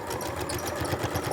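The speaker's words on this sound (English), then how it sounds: "I used the sewing machine just to quickly sew the sides of the pouch" A sewing machine runs steadily as it stitches the sides of a wool cushion pouch, with a fast, even mechanical whir and a rapid repeating needle clatter close to the listener.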